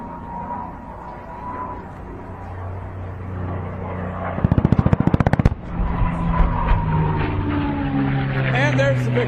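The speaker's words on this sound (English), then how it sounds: "We'll have pyro on the ground from Firewalkers Pyro International, and the strafe from Mark Peterson" An aircraft makes a strafing pass at a Hill AFB air and space show with ground pyrotechnics, a loud rapid burst of popping gunfire bangs mid-clip over the engine roar, with an announcer talking over the scene.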